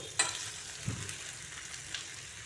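Potatoes fried in a pan while cooking a duck egg curry, a soft continuous sizzle with a brief metallic clink and a low knock early on, close by and fairly quiet, no voices.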